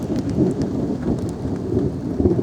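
Thunder rumbles low and continuous beneath steady heavy rain during a storm in Southport, the downpour hissing close by with no voices.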